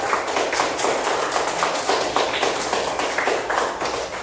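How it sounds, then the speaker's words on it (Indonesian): A classroom of schoolchildren clapping their hands together in steady, dense applause that holds at an even, fairly loud level throughout, with no speech over it. "Tepuk tangan untuk kelompok 3. Yang keras."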